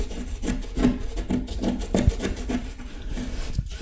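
Drywall mud being scraped away in layers from a damaged shower wall, a steady rough rasping with repeated strokes and brief harder scrapes, close and fairly loud with no talk.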